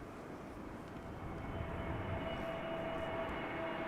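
An Airbus A321neo arriving at Amsterdam Schiphol Airport on a sunny day, its steady broadband engine roar rising slightly as it nears and holding constant, with no voices.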